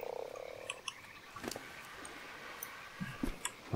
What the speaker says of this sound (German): Vielleicht finden wir noch einen anderen Frosch.